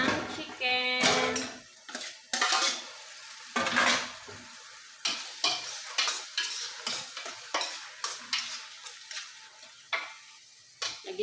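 Chicken going into a hot pot of macarona, with loud sizzling and repeated metal stirring clatter in a steady rhythm, plus a few brief pan clanks close by.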